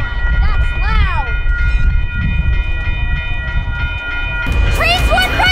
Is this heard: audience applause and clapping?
no